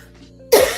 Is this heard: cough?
yes